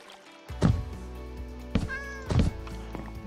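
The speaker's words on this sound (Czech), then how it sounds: "Kde je ta kočka?" A cat in Minecraft meows three times at close range, short distinct calls spaced about a second apart with soft thuds between them.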